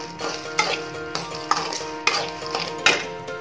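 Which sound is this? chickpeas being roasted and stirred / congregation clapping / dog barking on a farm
chickpeas being roasted and stirred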